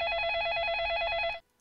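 A telephone rings in the Facade video game, a loud, steady electronic ring lasting over a second before cutting off abruptly.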